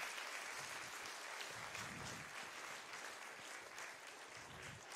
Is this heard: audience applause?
yes